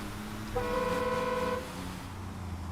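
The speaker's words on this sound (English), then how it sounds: "Kind of a weak horn, not even gonna lie." A weak truck horn in Construction Simulator gives one steady, thin honk lasting about a second over a low engine and ambient hum, without voices.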